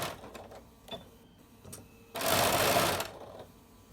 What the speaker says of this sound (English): This time I'm just going to sew halfway down here.